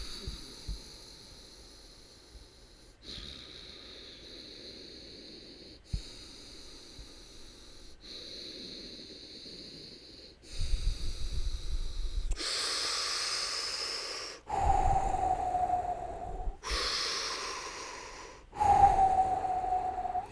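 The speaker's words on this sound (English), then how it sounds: "it's more of a smooth type of inhale or smooth type of breath or exhale" Slow, smooth breaths drawn in and let out through the nose, close and fairly quiet, several long inhales and exhales in sequence with soft airy hiss and no talking.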